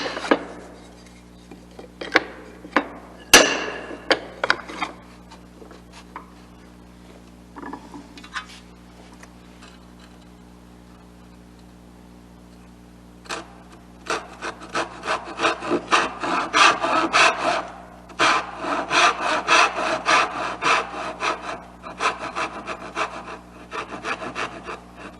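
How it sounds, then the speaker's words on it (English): Hand saw cutting dovetail tails in a wooden board, starting with a few scattered taps and short strokes, then settling into close, rhythmic back-and-forth sawing that grows steady and loud in the second half. "I just go to town and keep sawing, I'm going to damage the sides of my tails"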